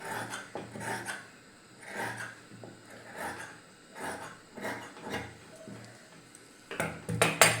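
Scissors cut through blouse fabric in a series of rhythmic rasping snips, close and fairly loud, with a quicker flurry of cuts at the end.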